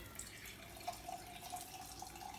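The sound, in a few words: tap water being poured over fruits and vegetables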